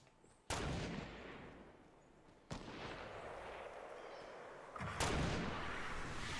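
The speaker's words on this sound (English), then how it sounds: "There's two guys sniping at me at northeast." Sniper rifle shots ring out in Fortnite Battle Royale on PS4: three loud, sharp cracks about two seconds apart, each followed by a long echoing tail, with no voices.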